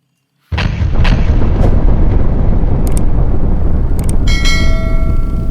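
A toy grenade blaster bursts into a loud, sustained explosion effect that starts abruptly and holds steady, with bell-like ringing tones layered near the end.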